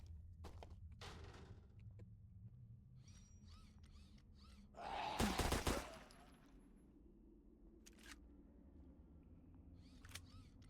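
Gunfire in the zombie shooter Zompiercer: a quiet scatter of sharp clicks and taps, then a dense rapid burst of shots lasting about a second, followed by a few isolated cracks, faint and alone.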